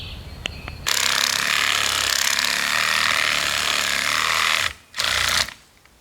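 A Sawzall reciprocating saw cutting through a tree trunk outdoors, roaring loud and steady for several seconds, briefly stopping, then a short final burst before cutting out; a few light knocks come first.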